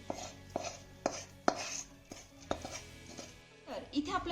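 Cooked ingredients are scraped onto a plate with a metal utensil in a series of sharp clinks and taps, spaced irregularly and fairly close.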